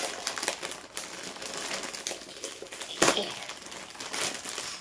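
Paper wrapping crinkles and tears close up, a continuous crackly rustle with one sharper rip partway through, no speech.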